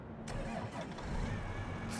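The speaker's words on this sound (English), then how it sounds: "Fire up the John Deere." A John Deere tractor engine cranks and catches in Farming Simulator 22, a steady low mechanical rumble with a sharp onset near the start, heard up close and continuing for about two seconds.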